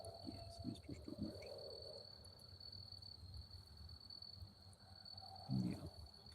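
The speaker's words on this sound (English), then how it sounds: "Crickets are definitely out." Crickets chirp steadily on a southern summer night, a continuous high trill running throughout at moderate distance, with soft low rustles and a brief thump near the end.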